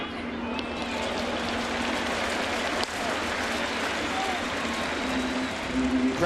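A big baseball crowd of about 33,000 in the Bronx, at a White Sox versus Yankees game, roars in a steady, dense wash of cheering and noise that holds throughout.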